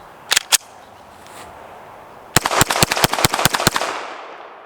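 Canik TTI Combat pistol firing: two quick shots, a pause, then a rapid string of about nine sharp, loud reports with ringing decay, no voices.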